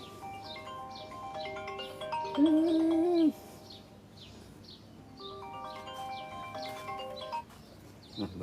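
A mobile phone ringtone chimes in a garden setting, a melodic tonal tune with one sustained loud note, repeating phrases amid nearby birdsong, with a brief spoken word.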